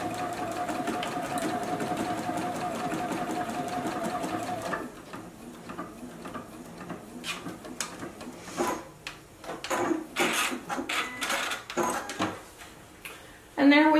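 A JUKI sewing machine sews a large decorative stitch on a fabric beverage coaster, running in a steady rhythmic whir before stopping, followed by clicks, handling noises and a voice near the end.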